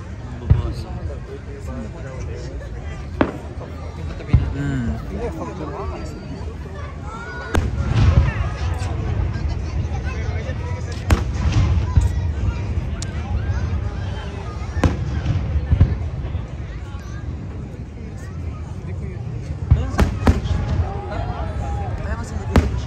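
Fourth of July fireworks at Lake Arrowhead, California pop and thud in scattered sharp bangs, some closer and louder, under constant nearby chatter and crowd noise.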